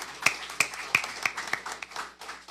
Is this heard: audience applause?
yes